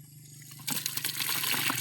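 Water gushes suddenly from an opened tap for fetching water, starting strong after a short quiet hum and running steadily and close.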